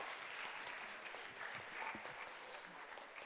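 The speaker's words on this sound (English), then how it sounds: "Let's give a big round of applause to the Director General." Audience applause at a school assembly, soft and somewhat distant clapping spread through the room, with some voices mixed in underneath.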